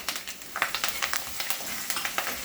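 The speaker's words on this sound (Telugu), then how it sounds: "లైట్గా వేగింది అల్లం వెల్లుల్లిపాయ కరివేపాకు ఉల్లిపాయ" Ginger, garlic, curry leaves, dried red chilies and onion fry in a pan with a close, crackling sizzle broken by rapid, irregular spatters and stirring clicks, heard alone without voices.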